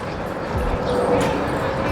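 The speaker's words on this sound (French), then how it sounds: "un parc à chiens. Que des chiens." Dogs bark and yip intermittently in an outdoor dog park, moderately distant amid general background noise and bustle.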